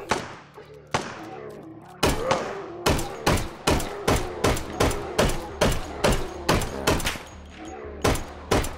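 Guns fired in the VR shooter H3VR: a steady run of about fifteen loud, sharp shots, each ringing out with a short echoing tail, spaced roughly half a second apart and heard alone.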